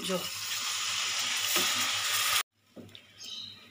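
Water poured into a pan of fish roe curry makes the hot oil and spices hiss and sizzle loudly, then the sound cuts off abruptly into a quieter bubbling simmer.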